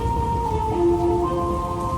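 Heavy afternoon thunderstorm rain pours steadily in Troy, Illinois, a dense, loud, continuous hiss of drops striking surfaces, with a low rumble swelling faintly under it.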